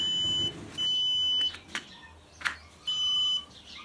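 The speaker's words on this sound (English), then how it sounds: "that's saying error and beeping obviously as you can hear it" A lithium jump starter for motorcycles signals an error with loud, shrill electronic beeps in evenly spaced pairs, each lasting about half a second, with some faint handling noise between them.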